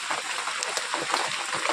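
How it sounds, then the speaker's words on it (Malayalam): Rain falls while rainwater pours from a broken pipe, making a steady, continuous broadband hiss of running and splashing water that stays even in loudness throughout. "ഇന്ന് പൈപ്പിൽ വെള്ളമുണ്ട് ഈ പൈപ്പത്തെ വെള്ളമാണ് ഈ പോണത് മഴവെള്ളമുണ്ട്"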